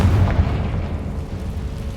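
A Confringo blasting spell explodes in the video game Hogwarts Legacy: a deep, rumbling boom that stays loud and low, rolling on steadily for about two seconds.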